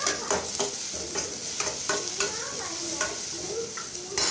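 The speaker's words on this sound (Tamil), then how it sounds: "ஆனியன் நல்லா ஃப்ரை ஆனதும்" Onions frying in a pan for a dinner dish, a steady close sizzle with repeated rhythmic stirring scrapes throughout.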